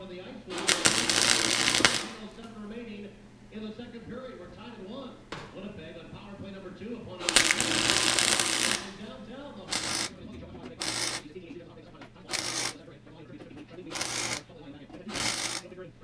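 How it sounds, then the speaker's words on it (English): Welding on the rocker panel of a 1998 GMC Sierra 4x4, broadband crackling bursts of a few seconds each, then a run of short regular zaps, close and loud over a steady hum. "So let's do some welding."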